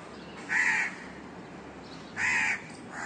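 A crow on a rooftop garden caws twice, two loud, harsh calls about a second and a half apart, each lasting under half a second, over quiet background.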